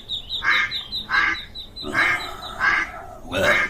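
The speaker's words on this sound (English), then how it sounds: "It's a duck pond, alright." A duck quacks at a duck pond, giving five loud raspy quacks in a steady, evenly spaced rhythm, close by over faint background noise.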